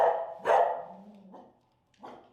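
A feral dog gives three sharp, fairly close barks: two in quick succession, then a pause and a third, softer bark.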